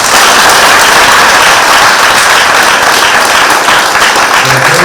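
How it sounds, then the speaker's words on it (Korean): Loud, dense applause from an audience after a student team's presentation at a university competition stage, sustained and close throughout with no talk above it. "발표팀의 발표 격려의 박수 부탁드립니다."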